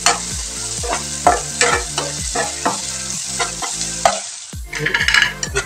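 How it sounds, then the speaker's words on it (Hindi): Spices for a pumpkin curry sizzle in a pan while a spoon stirs them in repeated scraping strokes, loud and close with a steady frying hiss beneath. "अभी हम मसाले को थोड़ा अच्छे से पकाएंगे।"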